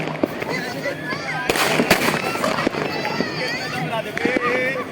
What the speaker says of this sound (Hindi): लोग पटाखे उस तरफ बजा रहे हैं, देख सकते हैं पटाखे जला रहे हैं।